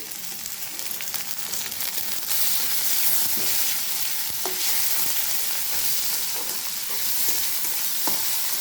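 Onion and tomato frying in a pan give a steady, close sizzling hiss with occasional spatters and stirring scrapes, continuous throughout with no talk.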